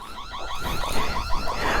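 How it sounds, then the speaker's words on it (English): Anti-theft alarm of a Flydone Y18 electric dirt bike wailing continuously in a steady, rising-and-falling electronic tone, loud and close with no talking. "all right, there goes the alarm."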